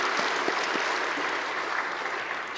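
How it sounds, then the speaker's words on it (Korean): A congregation applauds newly ordained officers at a Korean church ordination service, a dense, steady wash of clapping filling the room for a few seconds, with a few louder claps near the start. "우리 서로 박수 한번 하겠습니다"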